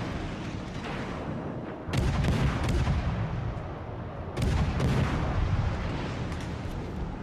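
Battleship main guns firing in World of Warships: Legends, two heavy booming salvos a few seconds apart, each rolling into a long rumbling decay over a constant background of game ambience.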